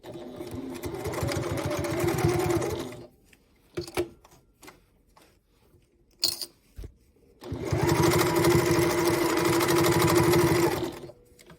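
A sewing machine stitches a bag seam in two long steady runs, close and loud, separated by a pause with soft handling clicks and fabric rustle.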